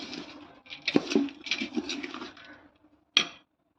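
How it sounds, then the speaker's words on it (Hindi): A spoon stirs ground spices with turmeric and poppy seeds in a bowl, giving close, quiet scraping and clinking pattering in irregular bursts, then a brief pause and one sharp clink near the end. "तो इस तरह से चम्मच से हम सारे मसालों को मिक्स करेंगे"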